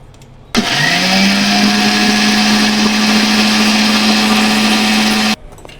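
A mixer grinder grinds poha and semolina to a medium-coarse texture. The motor switches on abruptly, whines loud and steady for about five seconds, then cuts off.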